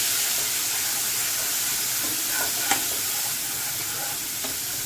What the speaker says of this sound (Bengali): আমি এগুলো একটু সাঁতলে নিই।